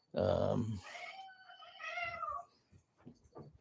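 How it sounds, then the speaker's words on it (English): Pet cats in a home scuffling and meowing, a loud yowl at the start followed by shorter wavering meows and scattered scuffling noises, close by and without talk. "Our cats are fighting."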